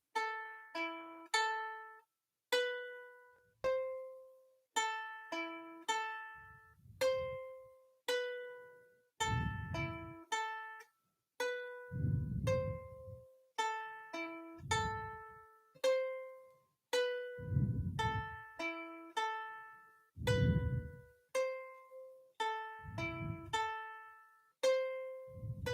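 Ukulele playing the first four bars of a beginner-level piece, plucked notes ringing out in a steady, measured rhythm, solo and close, with low thumps marking some beats and no talking.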